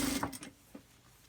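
A sewing machine stitches bias tape onto a fabric mask: a short burst of close mechanical whirring and clatter, then a fainter stitch before it stops.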